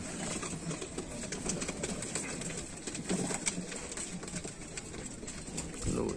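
Sialkoti pigeons coo softly and repeatedly in a rooftop loft, their low murmurs steady throughout beneath a dense background hiss and faint rustling.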